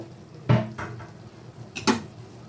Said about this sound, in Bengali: এখন আমি ঢাকাটা তুলে দেবো